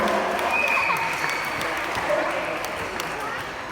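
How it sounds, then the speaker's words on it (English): A sea lion slaps its flippers together at an aquatic park show, sounding as brisk, continuous clapping with faint whistle-like tones above it, loud and close throughout. "That was good, Arthur, give yourself a clap."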